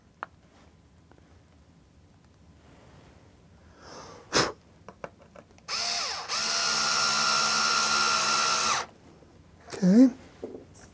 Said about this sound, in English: and now we need to drill the other holes